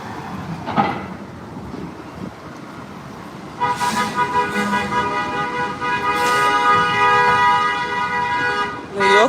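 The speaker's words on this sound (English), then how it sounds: "New York is so loud." Loud New York street traffic rumbles with passing cars, while a car horn blares in sustained honks and shorter toots, near and prominent; a voice is briefly audible under the din.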